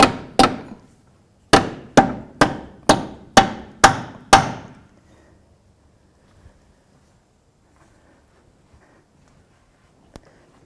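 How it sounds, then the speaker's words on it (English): Rubber mallet striking a control arm bushing on a 2005-2009 Subaru Outback: two close hits, a pause, then six evenly spaced sharp knocks, loud and near, followed by near silence with a faint later tap. "And then I'm going to get a rubber mallet"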